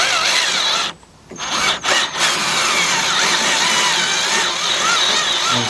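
A power drill driving a 1/4 inch bit into metal during a 2005 Chevy Impala ABS conversion, a loud steady whine running throughout with a few brief pauses near the start.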